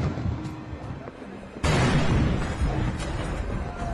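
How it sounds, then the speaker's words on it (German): A New Year's Eve firecracker goes off with a single sudden, loud bang, followed by a sustained rumbling roar and crackle that lingers over quieter background noise. "Die Explosionen nehmen immer größere Dimensionen an."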